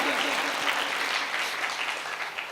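A church congregation at a water baptism service claps loudly and steadily, a dense burst of applause lasting a couple of seconds.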